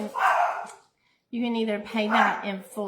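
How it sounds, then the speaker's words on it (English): Dogs bark and yip repeatedly indoors in short bursts, loud and close, with a pause in the middle, while a person talks over them. "Sorry about my dogs, can't do anything."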